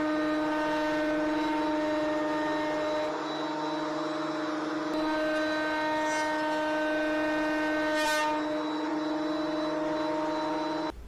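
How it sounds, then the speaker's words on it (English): A wood planer runs loud and steady while flattening a live edge walnut board, a constant whining motor drone with strong tonal harmonics and a slight change in pitch midway as the board feeds through. "we're about to introduce it to the planer, the ultimate wood slimming machine"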